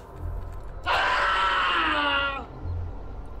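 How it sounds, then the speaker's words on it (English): Sid, a character in Cataclysm: Dark Days Ahead, lets out a single loud, drawn-out scream lasting about a second and a half, rising sharply and then cutting off, with a low rumble of game background before and after. "The others can hear Sid screaming."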